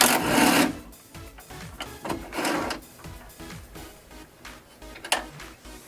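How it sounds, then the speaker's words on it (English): A ratchet on a 10mm socket loosens nuts on the window regulator of a BMW E46 coupe, with bursts of clicking and rasping that come and go across the clip, close up, with no talking. "Now we have 5 nuts with 10mm socket."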